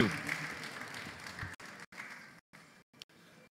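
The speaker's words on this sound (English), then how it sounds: "Please put your hands together for him." Audience applause at a national association conference in Abuja greets the introduction of the national president, a short burst of clapping that thins and breaks up after about a second and a half.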